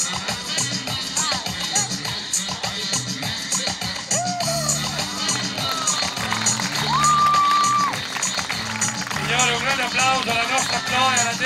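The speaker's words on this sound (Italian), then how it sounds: "Applauso alla nostra Chloe, alla Dele e a questi tre bimbi" Applause and cheering from an audience for a girl and three small children at a family gathering, a steady crowd wash with whoops and children's shouts mixed in, voices talking over it throughout.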